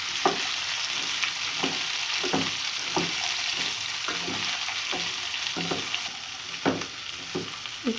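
Okra tossed into a pan with onions and oil, frying with a constant hiss while a utensil scrapes and stirs in a regular rhythm of strokes.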